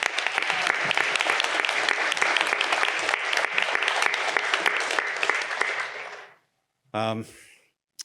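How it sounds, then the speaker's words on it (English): Audience applause after business pitch presentations, a sustained crowd of clapping hands lasting about six seconds before stopping abruptly, followed by a brief voice. "So I just have applause for everyone."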